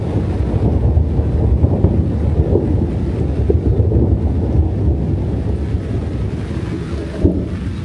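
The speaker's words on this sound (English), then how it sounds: "That is horrible sounding thunder." Deep, continuous rumbling thunder rolls on and on during a storm outdoors, a heavy low roar mixed with wind buffeting, loud and sustained with no clear breaks.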